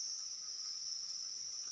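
Crickets at a cricket farm in Purworejo, a continuous high shrill chirring held at a steady level throughout, fairly faint and alone.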